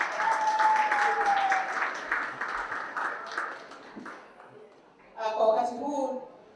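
An audience at an International Women's Day celebration claps in a burst of applause. Voices and cheering are mixed in, and the clapping fades and then briefly swells again near the end.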